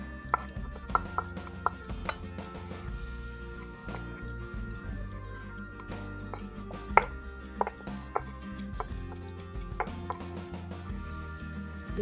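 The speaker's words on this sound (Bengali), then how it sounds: "এবার একটা ছুরির সাহায্যে আমি শেপটা খুব ভালো করে নিয়ে নিচ্ছি।" A knife trims and shapes coated bhetki fish pieces on a board for a Kolkata-style fish fry, making soft, irregular close taps and clicks at a quiet level with no talking.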